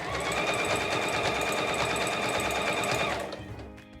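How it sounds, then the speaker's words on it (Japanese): A sewing machine runs a long basting stitch along the fabric edges of a body bag, a fast, even mechanical rattle that keeps going, then stops abruptly near the end and leaves a quieter tail. "この端とこちらの反対側の端 から5ミリのところを粗ミシンで つなげていきます"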